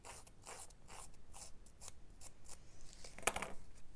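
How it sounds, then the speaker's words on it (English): Scissors snipping along the edge of a paper strip to distress it for a handmade card, a quick run of short crisp cuts and rasps with a sharper snip near the end, close and quiet, no talking. "I'm just going to use my scissors and just distress the edges a little bit,"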